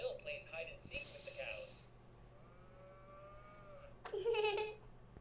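Cattle mooing in the video game That Dragon, Cancer: a low drawn-out moo early on and another near the end, fairly quiet, with a voice talking in between.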